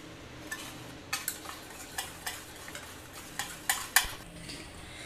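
Sifted flour, cocoa powder and baking powder being mixed in a bowl for an eggless chocolate cake, giving soft scraping and tapping strokes, some sharper clinks near the end, close and fairly quiet with no talking.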